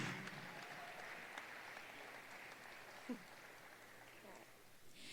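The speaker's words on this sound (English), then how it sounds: "Let's give him another hand clap" Applause for the team photographer at a university athletics awards banquet, a soft, distant, steady patter of many hands with one brief louder knock near the end.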